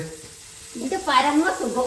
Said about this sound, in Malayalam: ആ മീൻ പൊരിക്കാണ് കേട്ടോ